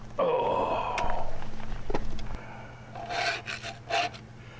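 A hand scraper rasps against the metal of a John Deere MC crawler during final drive work, close scraping strokes in short bursts with pauses, alongside a low steady background hum.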